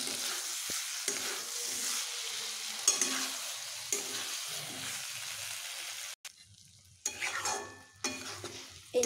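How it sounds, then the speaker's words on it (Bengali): Parboiled potatoes and bottle gourd fry with spices in a pan, giving a steady close sizzle with scraping stirs throughout and a short break near the end. "একটুখানি ভেজে নেব।"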